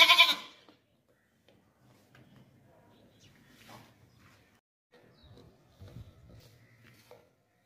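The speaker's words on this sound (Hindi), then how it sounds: "ये बकरा चेक करें भाई, 2024 की कुर्बानी के लिए बहुत ज़बरदस्त बेहतरीन बकरा" A young male goat for sale as a 2024 sacrifice animal, with white eyes, long ears and a dewlap, gives a loud bleat at the very start, followed by quiet livestock-pen rustling and faint distant noises.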